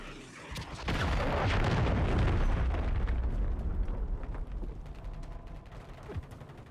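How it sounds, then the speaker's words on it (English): A cruise missile strike in the Call of Duty MW3 game: a heavy rumbling blast that swells and holds loudly for a couple of seconds, then trails off into crackling, mechanical rattling debris. "Friendly cruise missile deployed."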